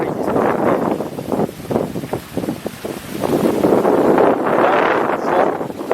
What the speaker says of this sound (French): Il y a un vent qui fait au moins 40-50 km/h.